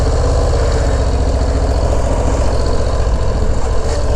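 Harley-Davidson Low Rider ST motorcycle engine running, a loud, steady low throbbing idle close by, with no voices.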